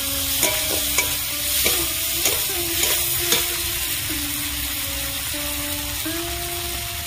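Garlic paste and chopped tomato frying in a pan for spicy potato curry, a steady loud sizzle with repeated spatula scrapes and stirring clicks, no one talking.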